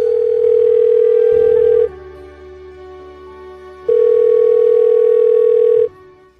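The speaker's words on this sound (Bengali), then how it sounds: "রিং হচ্ছে।" A telephone ringback tone on an outgoing call: two long, loud, steady tone bursts separated by a pause of about two seconds, heard alone with no voices.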